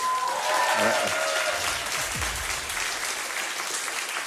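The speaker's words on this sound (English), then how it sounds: "with a round of applause, please pick up the second controller." Enthusiastic audience applause fills the space at a Baldur's Gate 3 panel, steady clapping from a crowd with a brief voice rising over it at the start.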